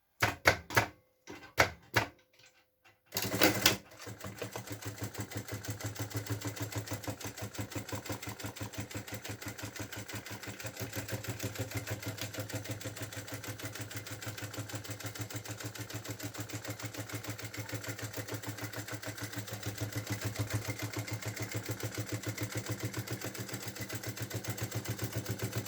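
A sewing machine topstitches a seam on a cotton beach bag, a fast steady mechanical chatter running on for over twenty seconds after a few short starts and stops.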